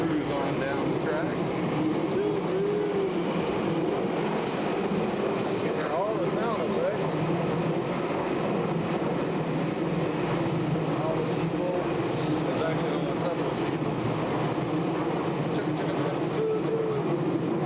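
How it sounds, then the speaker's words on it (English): A Tokyo subway train runs down the track, heard from inside the car as a continuous loud rumble with faint rhythmic rail clatter and a few squeals, and people talking under it throughout. "Now we're in the subway as we cruise on down the track."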